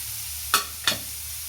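A spatula stirs a radish stir-fry with turmeric in a pan, making two short, crisp scrapes about a third of a second apart over a faint low hum, close by and otherwise quiet.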